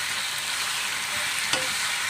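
Chopped tomatoes are stirred into onions frying in a pan for tomato chutney, giving a loud, close, constant sizzle with a spatula scrape and clack partway through.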